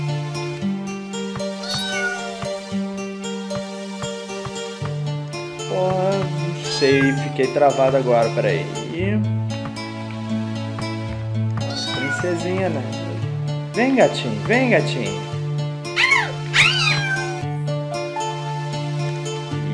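A video-game cat meows repeatedly amid game music, its wavering cries mixing with someone talking throughout.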